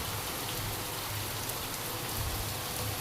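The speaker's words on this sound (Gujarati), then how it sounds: "5 ને 10 વરસાદનું જોરદાર આગમન" Heavy monsoon rain pours down steadily during a storm, a dense, even hiss of falling water that stays constant and close throughout, with no voices.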